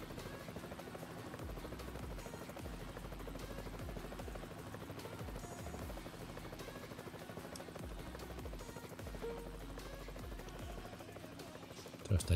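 Helicopter flying in the video game Next RP, a steady rhythmic rotor chop and engine drone running continuously, close and fairly loud, with a brief thump at the end.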